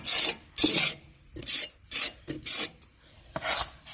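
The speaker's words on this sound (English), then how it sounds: "My dad's sharpening the blades over there" A metal file rasping back and forth across lawn mower blades in repeated strokes, harsh and scratchy, with short pauses between each pass; no talking.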